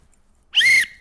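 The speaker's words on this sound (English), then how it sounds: "You ought to also have a whistle like this" A single emergency whistle, the kind carried for signaling distress or location while foraging for wild mushrooms, gives one sharp, shrill blast lasting about a third of a second, loud and close, with no talking.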